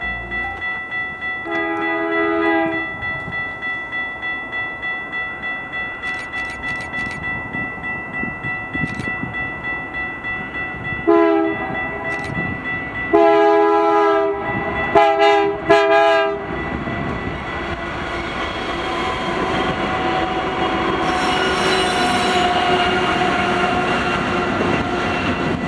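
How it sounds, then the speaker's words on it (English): A westbound BNSF Q freight train with a Fakebonnet locomotive pair rolls past on the Needles subdivision, sounding several loud, sustained horn blasts in separate bursts over a rising, steady rumble of wheels and cars. "the westbound Q train with the Fakebonnet duo passed through"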